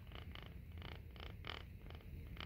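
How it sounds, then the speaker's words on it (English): Soft rhythmic purring from 1995 Tyco toy cats, a regular pulsing buzz repeating about twice a second, faint and close with no voices. "it actually sounds like they're purring."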